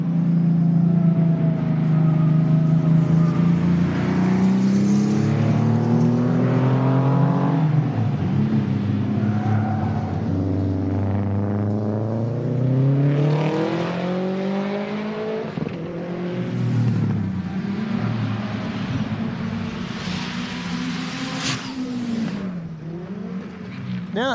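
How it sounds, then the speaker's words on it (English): A Porsche race car at a speed festival rises through the gears in loud, sweeping revs, climbing pitch over and over as it accelerates hard past nearby, then fades into a rougher rasp toward the end. A voice is heard faintly underneath. "now we're going to get a little bit bigger with the Porsche."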